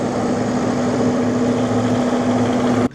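A tractor engine runs close by with a steady droning hum and constant vibration, cutting off abruptly near the end.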